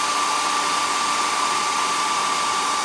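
Close and steady, a hair dryer blows to dry paint on a hand-carved cedar waxwing, a continuous loud rushing hiss with a high whine.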